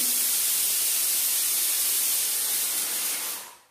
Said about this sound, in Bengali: কুকারে আমি মটরটা সিদ্ধ মটর না ছোলাটা সিদ্ধ করছি